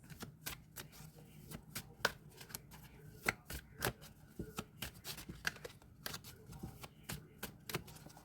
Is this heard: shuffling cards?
yes